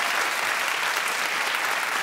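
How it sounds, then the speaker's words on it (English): A studio audience claps steadily, a dense even wash of many hands at moderate volume that runs unbroken for about two seconds, with no voices over it. "clap if you'd be offended"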